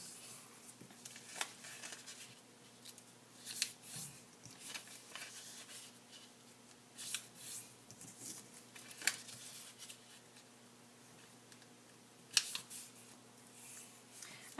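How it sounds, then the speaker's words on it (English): Origami paper is folded by hand, its four corners creased into the center in quiet, intermittent rustles and crisp crinkles with pauses between, faint and close. "fold each of those four corners into the center"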